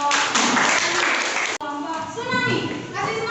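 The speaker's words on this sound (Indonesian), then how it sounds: "beri tepuk tangan untuk kelompok" A school class gives a group a burst of dense, close clapping for about a second and a half, which cuts off abruptly; voices and chatter follow.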